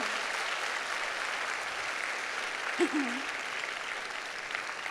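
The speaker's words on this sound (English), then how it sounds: "can you please join me in giving her a round of applause" Parents at a school concert applaud in a steady, continuous wash of clapping, with a brief vocal sound rising over it midway through.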